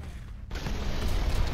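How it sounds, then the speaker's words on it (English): A grenade blast in the survival game Dysmantle: a sudden broad boom, then a dense rumbling roar of explosions that carries loud and sustained to the end. "Let's throw the rest of my grenades."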